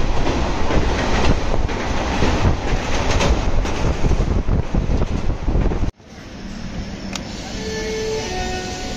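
A WAG 5 electric locomotive train rolls past close by, its loud rumble and wheel clatter buffeted by wind noise for about six seconds before cutting to a quieter, steadier hum.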